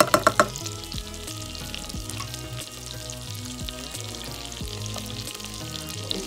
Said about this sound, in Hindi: बटर गर्म हो गया तो अभी इसमें प्याज डालेंगे